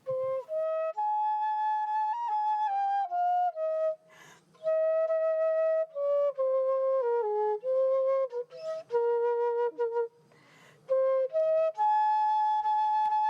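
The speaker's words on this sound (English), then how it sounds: "That's the sound of former NASA astronaut Cady Coleman playing a flute aboard the International Space Station" A flute is played aboard the International Space Station, a clear, breathy melody of sustained and stepping notes with short pauses and faint breath noises between phrases.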